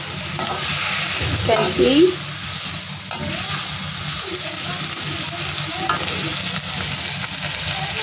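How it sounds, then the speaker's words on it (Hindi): Roughly chopped onions and tomatoes fry in a kadai with a steady, close sizzle, broken by a few stirring scrapes early on, while a voice speaks briefly. "उनको डाल के ऐसे जस्ट फ्राई कर लेंगे"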